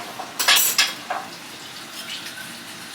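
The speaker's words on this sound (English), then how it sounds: "Stir our broth a little bit." Broth being stirred in a cooking pot, a few quick metallic clinks and scrapes of a utensil against the pot near the start, then a quiet simmering background.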